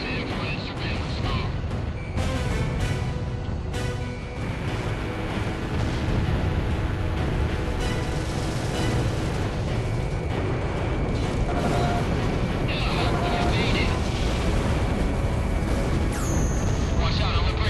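Dense, loud barrage of missile launches and blasts during the Bartolomeo Fortress mission of Ace Combat 6, a constant rumbling wall of explosions and jet roar with voices mixed in throughout.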